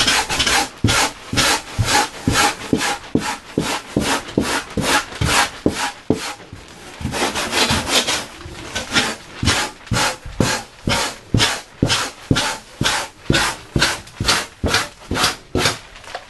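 Sandpaper rasps on surfboard foam while a concave bottom is shaped, close-up, with rhythmic back-and-forth strokes that speed up into short, regular rubs.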